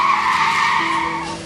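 A car brakes hard, its tyres squealing in a loud, sustained skid that fades slightly at the end.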